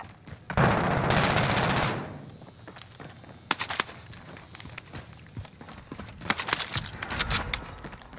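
Gunfire in Call of Duty: Modern Warfare: a loud sustained burst early, then scattered sharp shots and rapid volleys through the rest, with footsteps-like clatter between.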